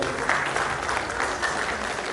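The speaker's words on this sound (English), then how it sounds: "please give a round of applause to Professor A.O. Folawewo." An audience at an academic symposium claps steadily in dense, sustained applause for a professor, a full crowd of hands filling the room without pause.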